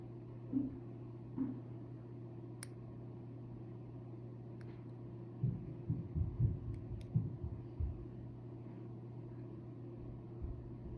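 Dry nails crack and snap faintly as they are cut, a cluster of small close clicks over a steady electrical hum, with a few isolated snips before and after.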